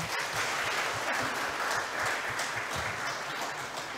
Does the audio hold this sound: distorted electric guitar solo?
no